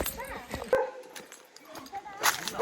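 Dogs at a rural estate let out a few short barks and yips at moderate distance, fairly quiet and separated by pauses, with people talking nearby.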